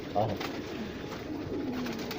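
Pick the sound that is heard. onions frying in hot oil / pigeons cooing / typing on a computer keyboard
pigeons cooing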